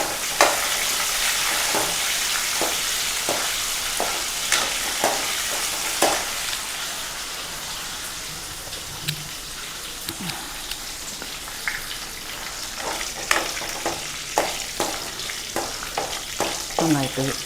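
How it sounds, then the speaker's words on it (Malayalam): Curry leaves fry in a hot pan with oil, giving a steady crackling sizzle broken by repeated sharp scraping taps of a spoon stirring, fairly close and continuous. "കറിവേപ്പിലയും ഒക്കെ നന്നായിട്ടൊന്ന് വഴണ്ട് ഇതാവട്ടെ."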